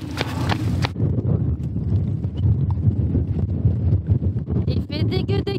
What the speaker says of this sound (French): On a le vent de face pour les derniers kilomètres